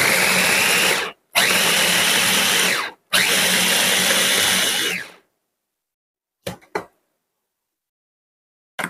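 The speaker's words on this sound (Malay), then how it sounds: "Blender dulu mak ya." Three loud bursts of a blender motor grinding onion, garlic and ginger, each lasting about a second or two with brief pauses, then quiet with a couple of faint clicks.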